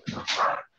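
A single short, close bark with a whiny, yelping edge comes from a dog indoors, rising sharply and fading within a second.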